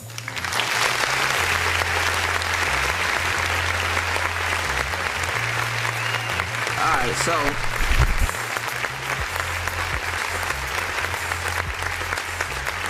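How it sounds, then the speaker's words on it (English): Sustained audience applause fills the room, steady and dense throughout, with a low rhythmic musical hum running underneath. "let's applaud what I just said"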